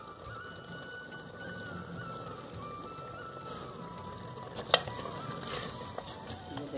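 Ghee sizzling in a pan before minced beef is added, a soft steady crackle and hiss throughout, faint and close, with a sharp clink of a utensil near the end.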